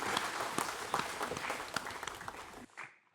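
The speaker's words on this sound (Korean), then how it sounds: "영광의 박수로 하나님께 드리겠습니다." A church congregation in Daegu claps together during a Sunday worship service, with steady, lively applause filling the hall for a few seconds before it stops abruptly, followed by a brief faint tail.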